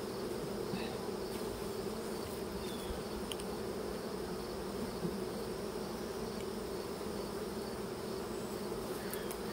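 Honey bees hum in a continuous, dense drone from an opened hive, steady and close throughout with no pauses.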